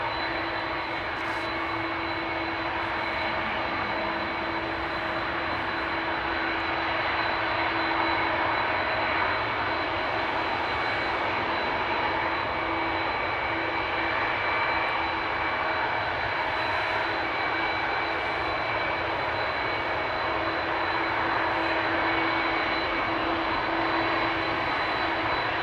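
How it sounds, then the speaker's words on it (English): Airbus A330 jet engines at Amsterdam Schiphol Airport roar steadily with a constant whine, a continuous loud drone from a moderate distance that holds for the whole stretch with no talking. "the audio that you're hearing is predominantly the engines of the A330"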